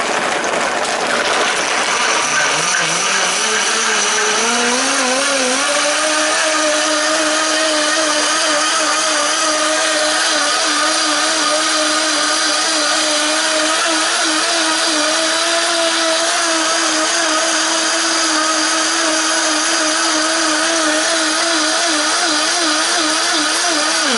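A blender grinds food for a ketogenic meal, spinning up over the first few seconds and then holding a steady, loud whirring drone with a slight wobble throughout, with no talking.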